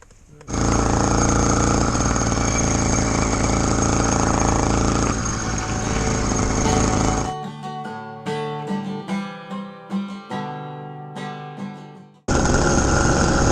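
An 80cc motorbike engine roars loud and close during a road ride, holding a steady buzzing drone for about seven seconds, dropping to sputtering, uneven revving, then surging back to full throttle, with no speech.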